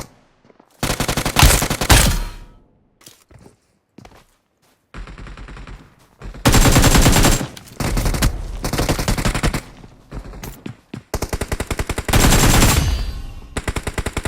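Loud automatic gunfire from the BGMI battle royale game, long sustained bursts of rapid fire broken by short pauses and quieter single shots, close and dominant with no talk.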